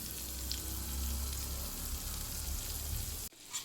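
Butter melts in a dry, hot pan over a high gas flame while making broccoli soup, giving a steady close broadband sizzle that carries on evenly and then cuts off abruptly near the end.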